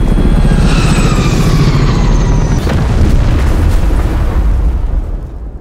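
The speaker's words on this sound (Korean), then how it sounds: "또다시 엄청난 굉음과 함께 충격파가 느껴지는데" A huge roar and shockwave from a meteor impact in a disaster film: a loud, sustained low rumble with a descending whine layered over it, then a brief crack before the roar fades out.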